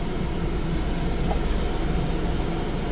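Steady broadband whoosh of a Honda truck's heater fan blowing inside the cab, a constant airy rush with a low rumble beneath, close and even throughout.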